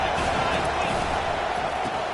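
A football stadium crowd roars steadily through a defensive stand, a dense, sustained wash of cheering with no breaks from start to finish.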